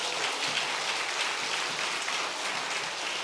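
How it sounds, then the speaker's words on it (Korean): Church congregation at a revival meeting clapping in steady, dense applause that continues evenly through the whole moment, with no voices over it. "박수 한번 쳐주십시오."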